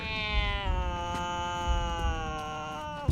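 A cat from the animated film The Animatrix gives one long, drawn-out meow with a clear, steady pitch that bends slightly, heard over a low rumbling background.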